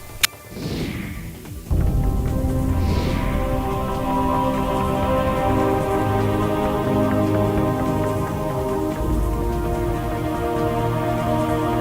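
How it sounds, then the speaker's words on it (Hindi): Heavy rain falls steadily in Nagpur, Maharashtra, a dense continuous hiss with a couple of early thuds, loud and constant throughout. "वहां लगातार कई घंटे जोरदार बारिश हुई"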